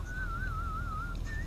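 A person whistles a single wavering, sustained tone during a GTA V online multiplayer session on PC, steady for about a second before a brief higher note, set against a constant low background hum.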